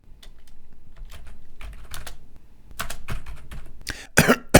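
Someone taps out light, irregular keystrokes on a computer keyboard nearby. Toward the end come a few louder, sharp coughs, with no speech.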